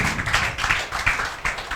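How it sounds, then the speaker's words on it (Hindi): Classmates clap for a student in a class, a dense, steady patter of many hands with sharp irregular slaps continuing throughout at moderate level. "रीतांकर पाल के लिए जोरदार तालियां बजाओ"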